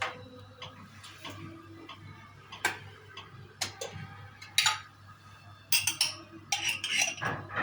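Chopped carrot, tomato, pepper and onion being stirred in a pot, with soft scraping and irregular metallic clinks of a spoon against the pot, fairly quiet and close, with no talking.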